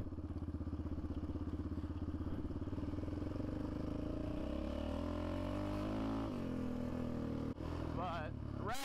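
A Yamaha Raptor 700R ATV engine labours steadily up a climb, a close, continuous rumble with rising and shifting pitch, clattering and thumping over rough ground, with a rider talking over it.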